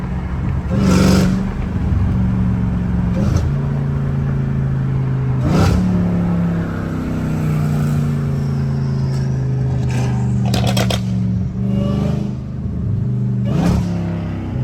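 A BMW M8 Competition engine revs repeatedly, with sharp crackling exhaust pops bursting between the throttle blips, loud and close.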